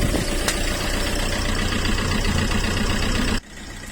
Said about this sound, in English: Engine's running.